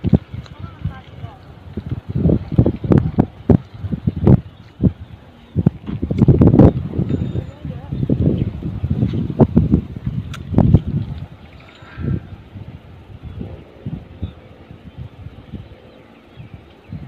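Strong gusty wind outdoors at a fishing spot while Texas-rig fishing, buffeting the microphone in uneven bursts and rumbles that rise and fall throughout, with muffled voices at times.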